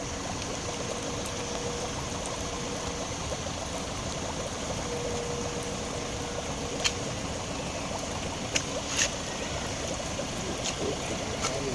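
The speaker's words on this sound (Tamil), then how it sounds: "ஒரு இடத்துல மட்டும் பபுள்ஸ் மாதிரி இப்படி வந்துகிட்டே இருக்குது தண்ணி" Rainwater bubbling and trickling steadily up from waterlogged ground during heavy rain in Sivakasi, a continuous close gurgling flow with a few faint clicks, no talking.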